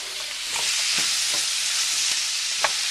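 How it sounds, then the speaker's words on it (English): Onions sweat in bacon fat in a pan, producing a loud, dense, continuous sizzle close by, broken by a few soft stirring scrapes, with no voices. "you sweat the onions a little. And the fat."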